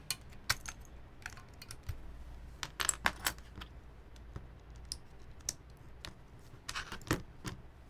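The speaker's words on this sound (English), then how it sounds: "I'll pull off some keycaps here" Keycaps are pulled one by one off a full-brass Ciel60 mechanical keyboard, giving sharp plastic clicks and light clattering taps in irregular clusters, close and fairly quiet with no talking.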